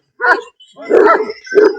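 Fighting dogs let out three loud, harsh barks and yelps close by, each burst separated by a short silence.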